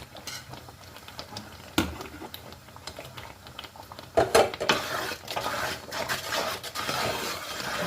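A spoon stirs arrowroot pudding with grated coconut and ground cardamom in a pan, making close scraping and clinking against the metal with a soft sizzle beneath and a few sharper knocks.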